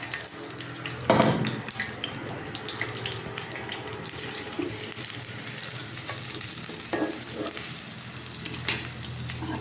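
Onion hits hot oil in a pan for a dish of spinach with hilsa fish head, giving a steady close sizzle with occasional clinks and stirring scrapes and no speech.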